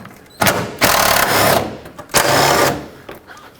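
A power driver spins 10mm bolts out of the radiator fan shroud on a 2003-2021 Chevrolet Express van, in two loud, close whirring bursts separated by a short pause.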